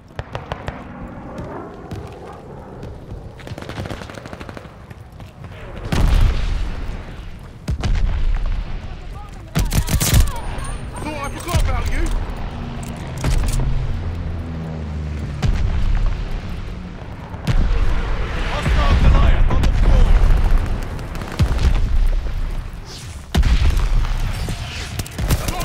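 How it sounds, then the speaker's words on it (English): Mortar shells and gunfire in a Call of Duty: Vanguard team deathmatch, heavy booms landing one after another amid bursts of shots, loud and close, with players talking over the battle. "They're sending mortar shells!"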